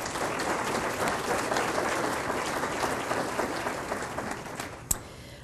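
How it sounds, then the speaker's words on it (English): An audience at a health keynote event applauds for the sponsors, a dense, steady clapping from a large room lasting several seconds before fading, with one sharp clap near the end. "So please give a round of applause for all of our sponsors."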